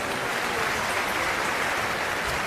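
An audience at a gathering claps together, a dense, even patter of applause that holds steady without pause for a couple of seconds.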